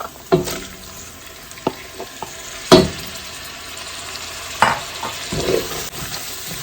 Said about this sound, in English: Now we'll go ahead and add our chopped tomatoes.